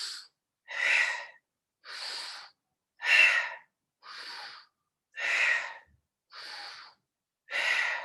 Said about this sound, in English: I'm actually breathing out through my mouth on this.